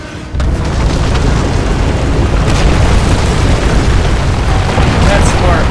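A loud, sustained roar of detonated charges blasting in the Rise of the Tomb Raider video game, a dense rumbling explosion that begins abruptly and fills the whole stretch without letting up.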